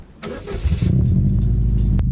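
Subaru WRX engine cranking and catching, then settling into a loud, deep, throaty idle with a steady low rumble, heard close up without talking.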